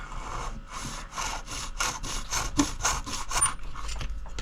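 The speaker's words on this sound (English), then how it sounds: "I'm just going to cut with a little bit of excess, so we can then sand it down to the right height" A small hand saw cuts through a model water tower part in about a dozen even back-and-forth strokes, close and rasping, with no talking.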